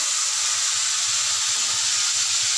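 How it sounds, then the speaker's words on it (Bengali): Shrimp fry in a pan with a steady, broad sizzle and hiss that holds evenly throughout, with no talking. "এগুলো মোটামুটি একটু লাল করে ভেজে নিতে হবে চলো আমি চিংড়ি মাছগুলো ভেজে নিই"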